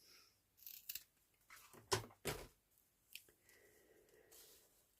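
Scissors cutting through hessian fabric, a series of close, crisp snips and crunchy cuts in irregular bursts with quiet pauses between them, and no talking.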